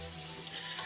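Onions cook and soften in a stewpot, giving a dense, steady sizzle and fry crackle close up, with no voices.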